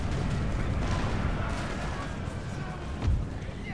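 Artillery fires in a battle in the video game Empire Total War, a dense, continuous rumble of distant cannon booms with one heavier thud near the end, under someone talking.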